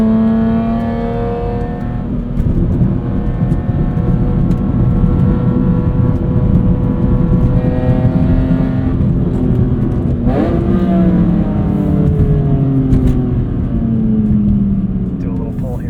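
A track-prepped 2005 BMW E46 M3 Competition with a 6-speed SMG revs hard under acceleration, its high-pitched engine note climbing steadily, dipping briefly at a shift, then rising again, loud and close from inside the cabin.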